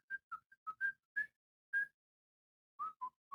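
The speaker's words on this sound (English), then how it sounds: "Who's whistling?" A person whistles a short, broken tune of about ten separate notes, clear and alone against a quiet room during a tabletop role-playing game session.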